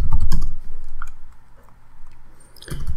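Keys tapped on a computer keyboard while entering a password, a few loud, close clicks in short bursts separated by brief pauses, with no voices.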